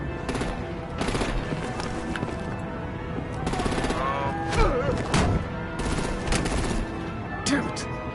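Dense, sustained artillery and automatic gunfire in the video game Batman: The Enemy Within, loud and continuous with repeated bursts and impacts throughout.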